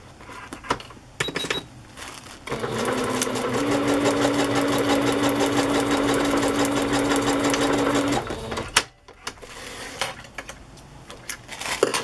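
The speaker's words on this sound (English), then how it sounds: "I don't always do this much sewing in a journal, but I do a lot." A sewing machine stitches paper envelopes and pockets into a journal, running in a steady, loud whirring burst for several seconds. Scattered handling clicks and paper rustles come before and after the run.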